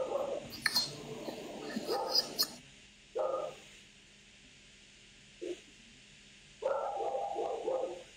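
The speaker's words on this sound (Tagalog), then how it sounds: "Tumatahol kasi yung aso namin. Hindi tumitigil." Dog barking outdoors in repeated short bursts, fairly faint and distant, with pauses between volleys and occasional glassy clinks; people talk quietly at the start.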